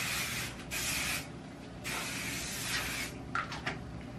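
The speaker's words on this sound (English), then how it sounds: "Put some body spray on." A body spray aerosol can hisses in several long sprays close by, with short gaps between bursts and a few small clicks near the end.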